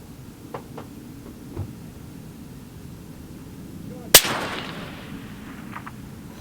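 A rifle fires once at a long-range steel target outdoors, one sharp loud crack followed by a rolling echo, set against faint wind and background noise with a few small clicks beforehand.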